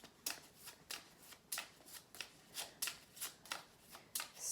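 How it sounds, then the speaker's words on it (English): Tarot cards being shuffled in a steady run of about a dozen quick riffling bursts, close and fairly soft, with no talking over them. "Okay, I'll shuffle these."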